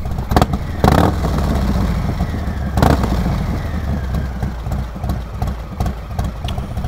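A Harley-Davidson Street Bob 114 with a cam idles nearby, its loud uneven loping rumble swelling with a few sharp throttle blips over a constant low throb.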